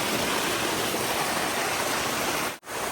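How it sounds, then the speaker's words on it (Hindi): Water rushing down a mountain stream on the way to a high alpine meadow, a loud steady hiss and roar up close with no voices, broken by a brief dropout near the end. "यहाँ से पानी बिल्कुल फ्लो बनाते हुए आ रहा है।"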